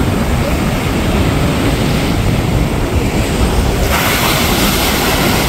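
Ocean surf at Sandbridge Beach, Virginia Beach, roars loud and constant close by, heavy rushing water mixed with strong wind buffeting the microphone.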